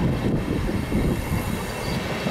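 A train rolls through Stuttgart main station with a steady mid-level rumble of wheels and a faint high squeal, no voices heard.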